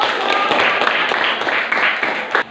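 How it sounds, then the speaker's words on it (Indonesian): Classroom applause as students clap together after a group discussion presentation, a dense steady patter of many hands lasting the whole moment, with some voices mixed in. "Tepuk tangan dulu"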